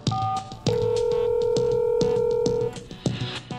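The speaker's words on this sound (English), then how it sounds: "Now press the speaker key to hear the dial tone" A steady electronic telephone dial tone sounds for about two seconds from a Fluke Networks TS Professional Series test set speaker, framed by clicks and brief line noise before and after.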